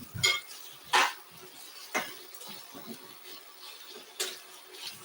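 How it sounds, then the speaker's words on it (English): Artichoke pasta stirred in a pan, with sharp scraping clinks of a utensil against metal at irregular intervals over a faint sizzle. "give these a good stir to get everything mixed together"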